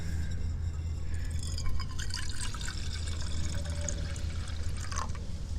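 One cup of water trickles and splashes as it is poured into a small metal Stanley billy can, with faint dripping over a low steady rumble.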